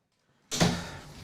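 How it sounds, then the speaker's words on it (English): After a moment of near silence, an indoor door shuts with one sudden thud and a short fading rattle. "Now, let me close the door."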